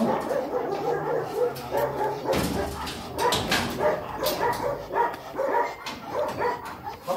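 A thirsty stray dog that has bitten four people barks and yips amid a busy, noisy street background, with short bursts scattered through the clip.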